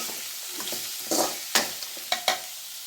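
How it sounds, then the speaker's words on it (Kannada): Onions fry in a pan for a leftover-rice breakfast dish, a soft steady sizzle broken by several sharp scrapes and knocks of a spoon stirring close by. "ಈರುಳ್ಳಿ ಒಂದು ಸ್ವಲ್ಪ ಫ್ರೈ ಆಗಲಿ"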